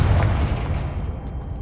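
Confringo blasting spell from Hogwarts Legacy bursting in a loud, deep explosion with a heavy low rumble that fades slowly over a second and a half.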